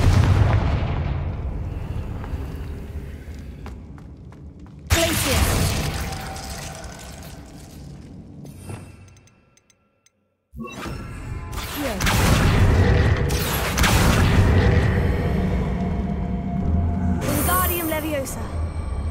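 Confringo explosive spell cast in the video game Hogwarts Legacy, heavy booming blasts that burst loudly around 5 seconds and again after a near-silent gap, with rumbling, crackling game effects between them.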